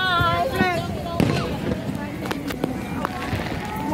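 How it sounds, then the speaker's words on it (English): Fourth of July fireworks pop and crackle outdoors, several sharp distant bangs scattered over a few seconds while people chat nearby and wind buffets the microphone. "The fireworks already started."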